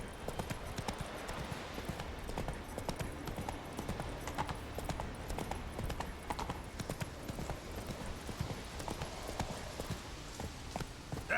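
Hooves of a horse in a fantasy video game clatter in a fast, steady clip-clop gallop, quiet and continuous throughout, with light game ambience underneath and no talk.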